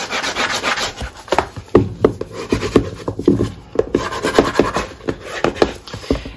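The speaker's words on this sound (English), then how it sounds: "And we're going to burnish everything into place." A paper sheet being burnished into place on a mini album cover, heard as close, repeated rubbing and scraping strokes in an uneven rhythm, loud and dry with no talking.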